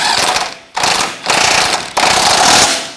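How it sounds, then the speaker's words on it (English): A ratchet and 21 mm socket snug up a rear bolt on a 2007-2017 Jeep Patriot 2.4L during a front ball joint replacement. Three loud, close bursts of rapid clicking are separated by short pauses. "So now let's snug up that rear bolt, and that's 21 millimeter socket and wrench."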